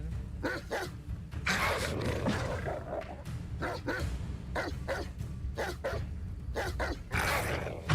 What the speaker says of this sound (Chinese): 狗狗，我们来玩。